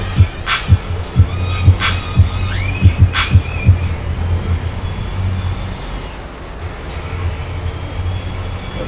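A truck engine in Euro Truck Simulator 2 rumbles steadily while sharp clicks and hissing, squealing bursts cut in now and then.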